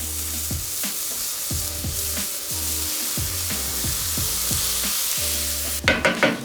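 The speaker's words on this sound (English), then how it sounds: "Now we'll add 500 grams of minced pork beef." Minced pork and beef fry with sliced peppers in a pan, a steady loud sizzle broken by repeated scraping stirs, ending in a few sharper clatters.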